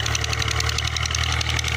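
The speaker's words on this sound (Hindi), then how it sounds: "ये ट्रैक्टर पास आ गया था तो इसलिए मैं खामोश हो गया था।" A tractor engine chugs close by on farmland where a janter fodder crop is sown for goats, giving a steady, loud, throbbing mid-pitched rumble with no talk.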